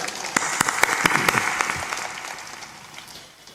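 Audience clapping at a spiritual discourse by a Hindi-speaking sant, a burst of many hands that swells then gradually fades over a few seconds, with some sharp individual claps standing out near the front.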